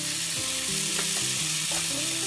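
Chicken pieces sizzling and frying in a pan of cooked-down spice paste for a Bengali-style chicken curry, a steady loud crackle with stirring scrapes throughout and no talk.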